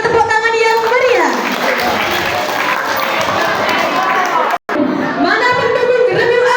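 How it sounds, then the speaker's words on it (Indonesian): A crowd at a school event claps and cheers loudly for competing student squads, a broad wash of applause framed by an amplified voice speaking before and after. "Boleh berikan tepuk tangan yang meriah."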